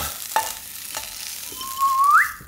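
Cooked peppers stirred in a hot pan, a soft close sizzle with a couple of quick scraping strokes, then a brief rising whistle-like tone near the end; no talking.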